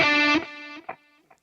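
A distorted electric guitar plays a slow fragment of a solo, a few sustained, gritty notes ringing briefly and then cutting off into quiet, with no talking.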